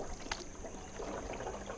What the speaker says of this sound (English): You're paddling on the wrong side,